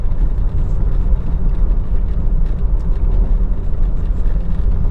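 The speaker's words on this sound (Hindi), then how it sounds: "नॉर्मली मैं ड्राइव करके अपनी कार को यहाँ से स्लोली मूवमेंट कर रहा हूँ" A car driven slowly at around 40–45 km/h through a narrow, busy road gives a steady, loud low rumble of engine and road noise, continuous throughout with no talk.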